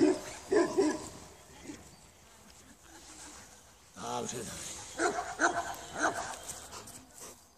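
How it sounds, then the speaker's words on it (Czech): A dog barks in short bursts and whimpers between them, close by, while a person speaks briefly. "Já, to je pes."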